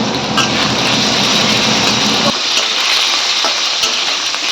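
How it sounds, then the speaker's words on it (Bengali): Potatoes fry in a hot pan with a loud, dense sizzle; the low roar drops away about halfway through, leaving a thinner hiss with occasional crackles. "আলু ভাজা হয়ে গেছে"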